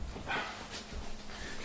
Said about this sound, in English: I can hear yapping puppies